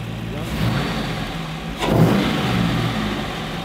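A 450 horsepower LS3 V8 in a truck rumbles loud and close, rising in a short rev partway through before settling back to a deep idle.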